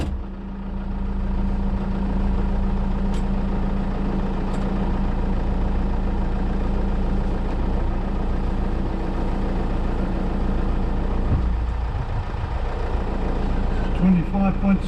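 Engine of a 6x6 Perentie ambulance truck with a 24-volt alternator fault, running at a steady low idle throughout, with a shift in tone near the end while someone talks over it.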